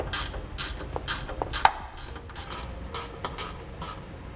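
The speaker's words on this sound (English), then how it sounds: "you're going to want to grab a 13mm ratcheting wrench or a socket so we can pull them out." A 13mm ratcheting wrench works bolts loose beneath a 2016 Chevrolet Silverado bed, giving short bursts of close, crisp pawl clicking separated by brief pauses, with one sharper metallic tick partway through.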